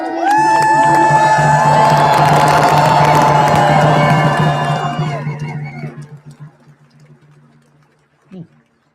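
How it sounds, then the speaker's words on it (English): A crowd at an anti-ICE protest in Minnesota cheers, whoops and claps loudly together, a sustained roar that lasts about five seconds before fading out into near silence, with a brief sound near the end. "Let's give another round of applause to everyone for being"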